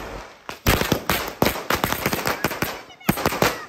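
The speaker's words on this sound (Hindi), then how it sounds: "ओरिजिनल लड़ी है, बहुत तेज धमाका होता है इसका" A string of firecrackers (an original firecracker chain) bursts in rapid, uneven succession, loud and close, each crack sharp and echoing.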